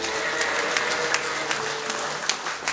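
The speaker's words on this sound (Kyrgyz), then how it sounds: "бир кол чаап коелу келиңиздер" Wedding guests applauding at a Kyrgyz celebration, a full, sustained round of clapping from a crowd with a few sharper claps standing out, no talk over it.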